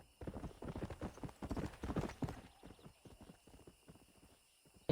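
Horse hooves clip-clop in a steady rhythm in the Red Dead Redemption video game, fairly close and moderately loud, fading a little toward the end, with a faint whinny among the footfalls.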